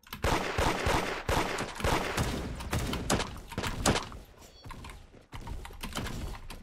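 Gunfire rips through a match of the Roblox game Da Hood, with dense rapid shots and crackling bursts one after another, loud and close, briefly easing before resuming.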